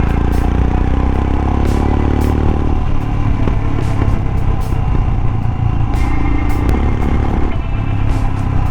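A motorcycle engine labouring on a mountain ride from Manali toward Jispa in the Zanskar region, a loud, steady, rumbling drone with rattling and wind buffeting, its low note dropping partway through as the load shifts.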